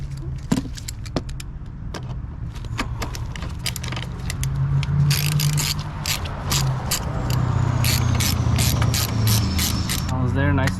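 Ratchet wrench clicking as bolts on the ECU bracket are tightened in a Honda Civic Type R FL5 engine bay during an intake install, with repeated close, sharp ratcheting bursts over a low hum and mechanical handling noises.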